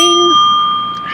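A single loud bicycle-style bell rings once, close and bright, then its tone sustains and slowly fades with no other sound.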